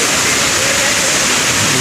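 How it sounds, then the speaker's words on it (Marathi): Heavy rain pours at a waterfall near a pilgrimage site at Marleshwar, with a small pool nearby, a dense steady broadband rush of water filling the scene without a break. "तर मित्रांनो परत पाऊस सुरू झालेला आहे जोरदार"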